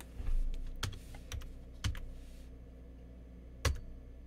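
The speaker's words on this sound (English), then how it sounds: "Let's type in another one." Typing on a computer keyboard: a handful of sharp, separate key clicks spread unevenly over a few seconds against a quiet room hum.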